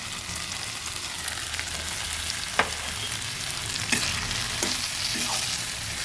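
Soaked rice tipped into a pot of frying potatoes, with a steady close sizzle and a few sharp clatters of grains and stirring near the middle and end.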